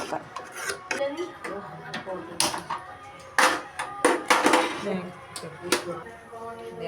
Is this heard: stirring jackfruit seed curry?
yes